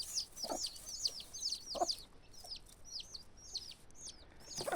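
Small chicks peep in quick, repeated descending chirps, close by, while adult chickens give a few low clucks underneath, the chirping thinning out midway and returning near the end.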